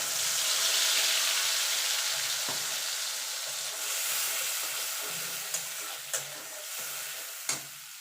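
Ground poppy seed paste is added to hot oil tempered with nigella seeds and a dried red chilli, then fried for a Bengali potol posto dish, giving a steady close sizzle with intermittent stirring scrapes and a few sharp utensil clicks.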